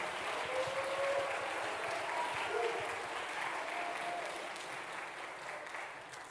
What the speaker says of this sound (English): If we could just give them a round of applause